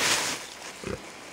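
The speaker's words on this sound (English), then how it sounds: "Them are some nice pasture-raised pigs." Pasture-raised pigs on an off-grid homestead give a short burst of grunting oinks, close and fairly loud, over a breezy outdoor background.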